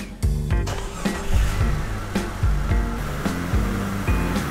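An AMC 242 4.0-liter engine in a Jeep Cherokee XJ runs just after being fired up following an oil filter adapter O-ring repair, a loud, close, steady idle with a pulsing, slightly uneven chug and no voices.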